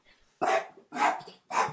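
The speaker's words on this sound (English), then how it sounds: "This is Bailey, who's obviously seen a pigeon." A dog barks at a pigeon: three loud, close barks with short pauses between them, and no talking.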